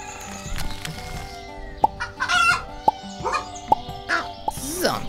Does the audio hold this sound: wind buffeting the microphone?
no